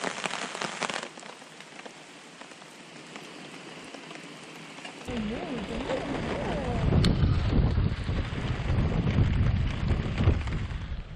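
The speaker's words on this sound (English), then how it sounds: "Dumping rain," Heavy rain pours over a backcountry campsite in Killarney Park while wind gusts buffet the microphone, the downpour growing louder and rougher in the second half, with brief faint voices in the background.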